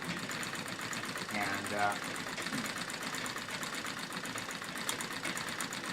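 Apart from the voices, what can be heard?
treadle sewing machine quilting through denim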